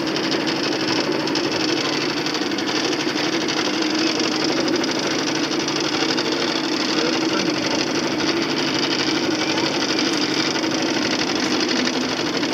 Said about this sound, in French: Il y a le bruit du moteur